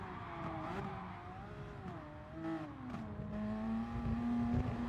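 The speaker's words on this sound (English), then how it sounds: "I can hear the tire screeching behind me" Tires screech in a car racing video game, a rising and sliding squeal over a steady engine drone, with faint bursts of other cars nearby.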